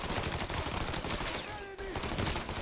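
Rapid, sustained gunfire fills a firefight in Mafia III on Xbox One, dense and continuous, pausing briefly before resuming at full intensity.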